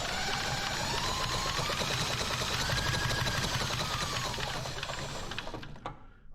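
A chopper mini bike's small engine is spun over slowly by hand to check for spark, making a steady rapid mechanical ticking and whirring up close that slows and fades out at the end.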